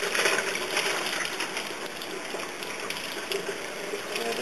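Dyed rabbit hair rinsed under running water, a steady close gush and splash from the tap with no talking.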